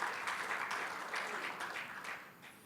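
Applause from a congregation during a church service, a steady spread of clapping filling the room at a fairly faint level and slowly tapering toward the end.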